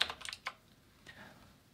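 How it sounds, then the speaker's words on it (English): Keystrokes on a computer keyboard: a quick burst of several clicks in the first half second, then a softer, more scattered stretch of tapping, close and clear with no speech. "So we're typing in Hebrew."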